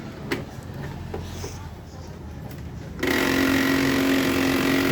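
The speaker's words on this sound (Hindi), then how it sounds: "जैसे ऑन करते हैं प्रिंटर तो काफ़ी साउंड कर रहा है।" An HP LaserJet 1020 printer, faulty, makes loud abnormal noise when switched on: after quiet clicks and handling sounds, a harsh steady mechanical whirring grinding suddenly starts and holds loud.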